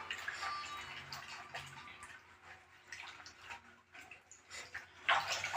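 Betel leaves are being washed by hand in water, giving soft splashing, dripping and sloshing sounds that stay faint and close, with a brief louder splash near the end.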